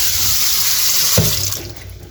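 Water runs steadily from a kitchen tap into a container, a loud broadband rush that holds evenly, then softens and tapers off near the end as the flow is cut back.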